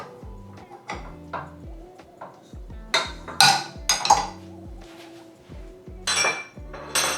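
Metal clinks and clanks as a dough hook is lifted off a stand mixer after kneading pizza dough, a series of sharp, close ringing knocks with short pauses between them, no talking.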